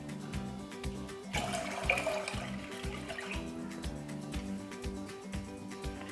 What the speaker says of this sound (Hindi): 6 कप पानी डालूंगी मैं इसमें